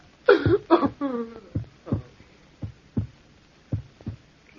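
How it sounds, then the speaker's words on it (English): Heartbeat sound effect in a 1944 radio drama of "The Tell-Tale Heart": a loud double thump opens, then slower, fainter single beats follow in a steady, fading rhythm, with no voices. "Listen to the heart beat its last beat."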